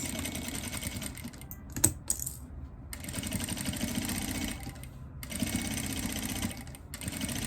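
A sewing machine running with a presser foot, joining two fabric pieces along a 31 cm seam, whirs in steady bursts with a brief pause and a small click in the middle; no one talks.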